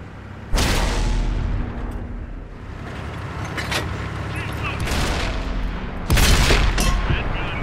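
Heavy gun blasts from an Obj 268 tank destroyer in an armored combat video game, three loud booming shots spaced a few seconds apart, each with a long rumbling tail, over a steady low engine drone.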